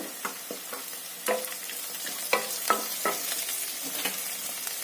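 Cumin and vermicelli being stir-fried in oil for upma, a soft steady sizzle broken by repeated scraping and stirring clinks of a spoon against the pan, with no voices.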